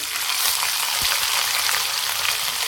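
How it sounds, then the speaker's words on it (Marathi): Ginger garlic paste frying in hot oil with cumin seeds for a dry bitter gourd curry, a steady close crackling sizzle with a few soft clicks of stirring, no voices. "यामध्ये बघा अद्रक लसूणची पेस्ट टाकते"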